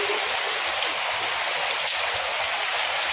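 Steady rain falling outdoors in a monsoon setting, a continuous broadband wash with no gaps, moderately loud and even throughout, no voices.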